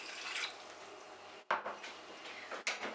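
Water pours into a saucepan of sugar, splashing and trickling in a few short bursts with clinks of the pan between them, close and fairly quiet.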